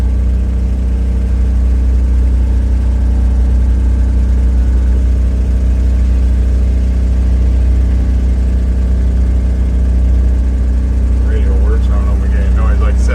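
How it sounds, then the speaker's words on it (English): An air compressor pumps up on a 1961 Chevrolet Corvair 95 Rampside pickup, a steady, loud droning whir over the running engine with no breaks, and a few faint higher squeaks near the end. "There's your air compressor right there pumping up."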